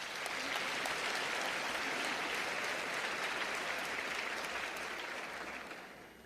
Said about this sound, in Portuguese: Pode aplaudir que isso é de vocês.